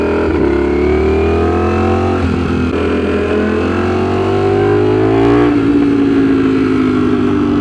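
Ducati StreetFighter V4 motorcycle engine revving loudly under a rider, a steady high-pitched roar that climbs and dips with throttle changes, close and continuous with no talk.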